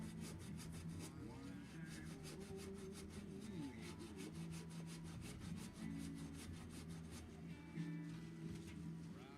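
An antique item being scrubbed on one side, a steady rapid back-and-forth rasping rub close to the listener that keeps going without a break.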